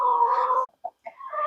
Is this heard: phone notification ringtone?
no